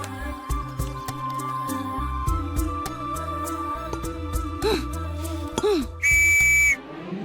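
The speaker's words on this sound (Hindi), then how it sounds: "अभी गलती की सीटी बजा दी।" A whistle blown once in a Hindi romantic film scene, giving a single sustained shrill note near the end, loud and clear over steady background music.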